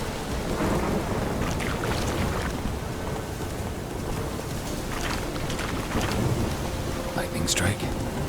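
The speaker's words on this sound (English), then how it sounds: "Lightning strike." A heavy thunderstorm in The Witcher 3, with steady pouring rain and repeated crackling lightning strikes and thunder cracks breaking through, loud and close.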